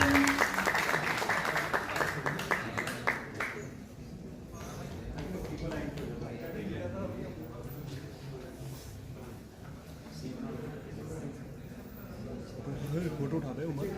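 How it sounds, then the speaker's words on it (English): An audience claps loudly and briskly for a few seconds, then the applause fades into murmuring crowd noise and scattered talk. "So please, a big round for clapping."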